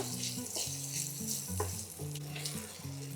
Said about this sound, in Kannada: ಕ್ಯಾಪ್ಸಿಕಮ್ ಒಂದು ಸ್ವಲ್ಪ ಮೆತ್ತಗಾಗೋವರೆಗೂ ಇದನ್ನು ಫ್ರೈ ಮಾಡ್ಕೊಳ್ಳೋಣ